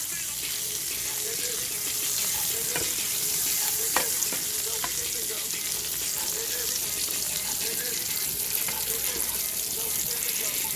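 Meat frying in a pan while being basted with butter, a steady close sizzle and crackle with occasional clinks, running continuously without talk.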